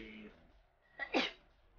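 A single sharp human sneeze bursts out near the end, brief and close, following a bit of speech.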